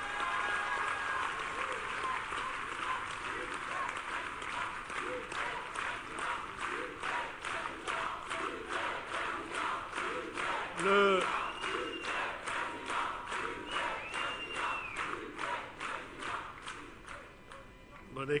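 An audience at a political rally in Toulouse claps steadily and rhythmically for a long stretch, with crowd voices and a brief whistle or shout mixed in before it thins out.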